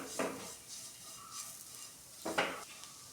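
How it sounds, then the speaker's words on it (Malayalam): Chili powder, masala and green chilies sauté in a pan, with two distinct scraping stirs of a utensil and faint sizzling between them, close and moderately quiet. "ഇനി അതിൻ്റെ പച്ചമുളക് നന്നായി മാറുന്ന വരെ നമുക്ക് വഴറ്റി കൊടുക്കാം"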